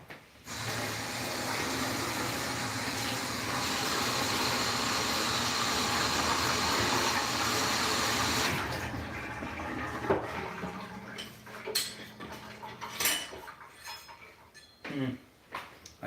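Tap water runs steadily into a kitchen sink as something is rinsed, a broad, loud hiss holding for about eight seconds before it stops, followed by scattered clatters and handling noises.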